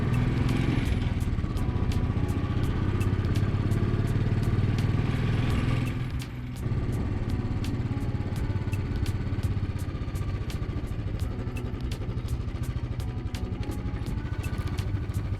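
A motorcycle engine labours up the Gata Loops at high altitude in Ladakh, where thin air saps its power. It gives a steady, low running drone with light rattling clicks over it and no talk.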